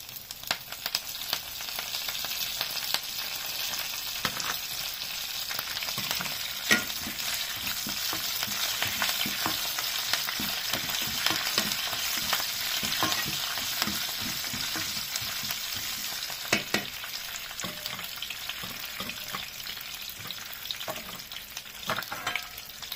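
Dried red chillies and curry leaves crackle and spit in hot oil for a chilli chutney, a steady close sizzle with scattered sharp pops and occasional stirring scrapes, no voices.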